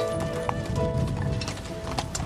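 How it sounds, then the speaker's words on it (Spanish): Horse hooves clip-clop in a steady rhythm during a horseback ride through olive-grove mountain countryside, close and continuous over a dense outdoor background. "Preferimos un paseo a caballo junto al abuelo y sus nietos."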